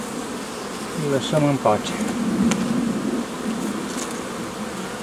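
Honeybees from a newly formed swarm hum steadily around an opened hive, a close, continuous buzz while someone speaks briefly.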